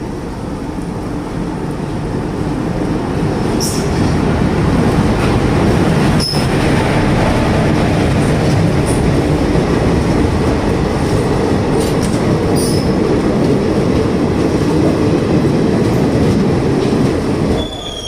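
The Okha Puri Express passenger train runs at speed in a loud, continuous rumble of wheels on rails. A few short, sharp metallic squeals cut through the din.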